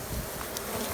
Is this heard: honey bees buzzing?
yes